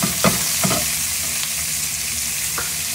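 Monkfish pieces drop into hot coconut oil in a pan and set off a loud, dense sizzle, with a couple of sharp spatters and scrapes at the start and near the end.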